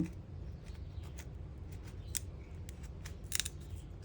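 Kitchen knife cutting a very ripe, soft avocado in half, heard as quiet close crisp clicks and scrapes over a low background hum.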